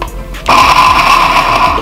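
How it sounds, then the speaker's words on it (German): A kitchen blender whirs into action after a quiet start, mixing oats, pea protein and quinoa flour for vegan protein burgers, a loud steady motor hum running to the end. "Und dann schmeißen wir den Mixer das erste Mal an"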